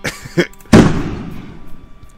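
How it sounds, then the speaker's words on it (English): One loud, near explosion booms in a visual novel game, a sharp blast that rolls off into a long fading rumble after a few softer sounds before it. "An explosion went off right behind her back."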